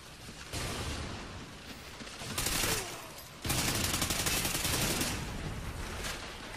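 Sustained gunfire from the video game Call of Duty Ghosts in Blitz mode, loud bursts of rapid shots that swell and continue in dense volleys with no talking.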